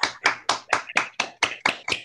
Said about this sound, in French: peut-être qu'on applaudisse M. Serzaili pour son intervention et sa présence